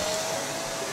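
A dust extraction vacuum in a home workshop runs steadily after being switched on, a continuous loud airy whoosh and hum with a faint whine that holds without change for the whole second.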